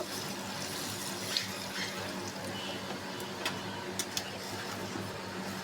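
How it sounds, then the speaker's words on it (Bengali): Water runs steadily into a pot of shingi fish and potato curry, a continuous close pouring hiss with a few small clicks. "পানি অ্যাড করে দিব"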